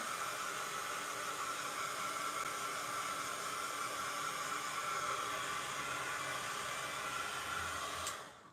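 Heat tool blowing on an art journal page: a steady, loud whooshing hiss of hot air runs unbroken and close for about eight seconds, then cuts off abruptly near the end.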